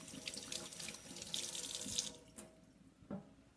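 Running tap water splashes over soapy hands rinsing in a kitchen sink, close and steady for about two seconds before easing, followed by a few softer splashes and drips, with no talk.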